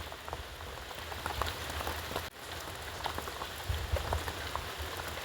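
Steady rain patters on outdoor surfaces on a cold, wet day, a dense even hiss dotted with individual drops, close and continuous, with no voices.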